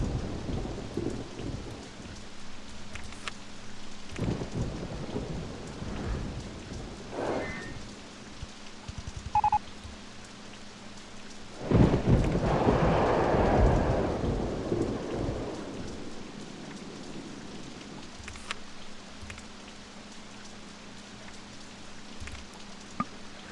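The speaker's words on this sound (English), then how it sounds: "Unfortunately, the rain doesn't stop anytime soon, but it is going to get lighter" Thunderstorm with steady rain in the OpenRCT2 theme-park game: continuous rainfall throughout, with several rumbling thunder rolls, the loudest and longest near the middle, fading back to rain alone.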